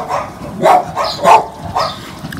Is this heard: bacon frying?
no